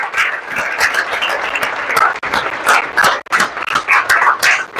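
An audience in a career library applauds loudly at a surprise celebration of CGL-2022 final selections, with dense, sustained clapping and cheering throughout, dipping briefly twice.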